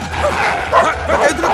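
A dog barks close by in a short series of yipping, slightly whimpering barks, loud and prominent, with little else around them.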